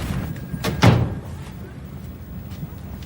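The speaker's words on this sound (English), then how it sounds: "I just shut the door." An interior door is shut in a house, giving a single firm thud followed by quiet room tone.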